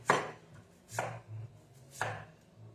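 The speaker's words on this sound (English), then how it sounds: "now I'm going to chop the onion." Three firm knife chops through an onion on a cutting board, spaced about a second apart, close and crisp with no talking.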